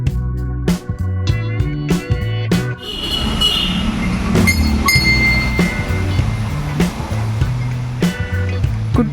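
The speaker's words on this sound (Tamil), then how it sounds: "குட்டி பெல்லா இருக்கும், அது ஈஸியாக அடிக்குது பாருங்க." A small temple bell rings repeatedly in a quick, steady rhythm with bright metallic strikes, set against a busy, clattering background.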